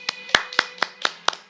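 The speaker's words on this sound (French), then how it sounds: "J'applaudis" A single person clapping by hand, seven sharp, close claps in a quick, slightly uneven rhythm over a quiet background hum, with no talk.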